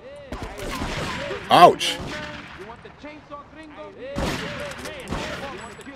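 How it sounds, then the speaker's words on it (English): Enemies blast shotguns in GTA 3, with a few sharp, loud reports, one near the start and another burst later, while someone speaks and yelps over the action. "Yeah, they're using shotguns."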